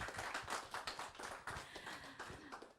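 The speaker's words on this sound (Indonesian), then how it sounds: "tepuk tangan dong." Audience clapping at a live music show broadcast from RRI Entikong radio, after a song performed by a band: dense, fairly steady applause with crisp overlapping hand claps throughout, moderately loud and without talk.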